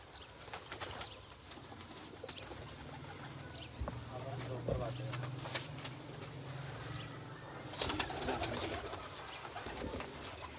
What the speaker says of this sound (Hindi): सारे टैडी कबूतर हैं।